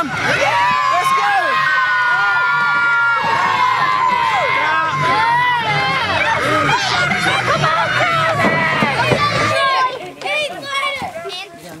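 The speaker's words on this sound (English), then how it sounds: "Can I get a cheer one more time?" A crowd at a wrestling championship event cheers and shouts loudly and continuously, with high excited voices and whistles, fading slightly near the end.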